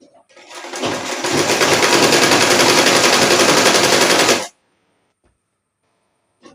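A sewing machine stitches closed the pleats of a pajama, a loud, close, rapid rattling run lasting about four seconds that then stops abruptly, followed by near silence and a faint click.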